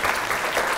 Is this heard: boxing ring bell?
no